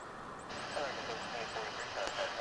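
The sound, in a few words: airliner taking off from DFW airport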